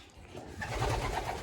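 Pigeons cooing while sitting on a nest, fostering a youngster: soft, low, rounded coos close by, swelling in the second half over a faint airy background.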